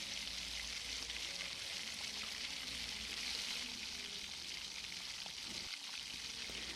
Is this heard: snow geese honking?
no